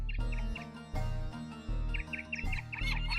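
A flock of doves flying in a cartoon story, heard as bright chirping calls in quick clusters. The calls repeat over a loud, rhythmic musical backing.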